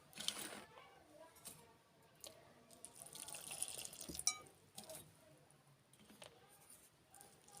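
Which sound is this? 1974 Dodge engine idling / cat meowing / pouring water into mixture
pouring water into mixture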